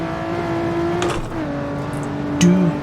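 Lotus Exige S engine in Assetto Corsa on the Nordschleife, a steady sustained drone holding a constant pitch in third gear, dipping briefly before settling again, loud and continuous with no talk.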